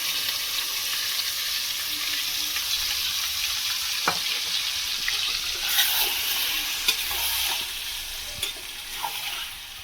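Mutton pieces being stir-fried with bay leaf, dried chilli, garam masala and fried potatoes in a pan for mutton kosha, a steady close sizzle with scattered spoon scrapes and clicks, no voices.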